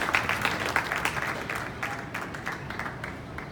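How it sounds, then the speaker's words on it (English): A crowd at an innovation district launch event applauds in a steady, moderately loud wash of clapping, with distinct individual claps audible as it slowly thins toward the end and faint voices in the background. "Another big round of applause, Simply Destiny"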